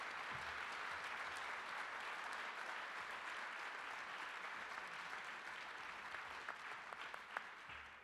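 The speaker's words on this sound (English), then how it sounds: "how about a round of applause to welcome the students and thank their sponsors" An audience at a conversation event gives a steady round of applause, a dense wash of clapping heard from a distance that holds evenly for the whole stretch.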